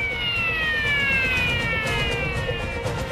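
A Korean fire engine's siren wails continuously with slowly falling sweeps, loud and close, over rumbling traffic noise as the truck responds to a call at a gas production base.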